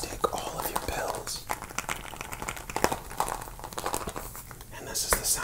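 Crinkly plastic and foil pill blister packaging is handled and torn open in a fast, aggressive lo-fi ASMR setting, with dense crackling and rustling close to the mic and soft whispering throughout.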